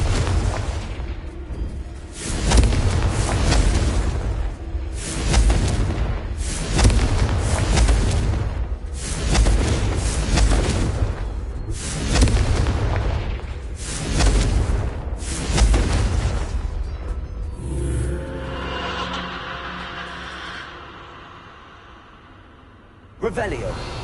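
Repeated booming blasts of the Confringo explosive curse in Hogwarts Legacy, loud and close, bursting roughly every couple of seconds before fading into a rumbling tail, with a sharp crack at the very end.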